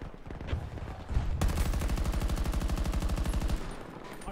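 Automatic rifle fire in the video game Battlefield 2042, a sustained rapid burst of evenly spaced shots lasting about two seconds, preceded by a few scattered distant shots of in-game combat.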